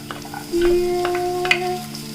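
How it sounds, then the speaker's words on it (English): Garlic and onions hitting hot oil in a pan, a loud burst of sizzling that rises suddenly and carries on, with a few clinks and a ringing tone above it and no voices. "Heat some oil and then put some garlic, and then add onions to this."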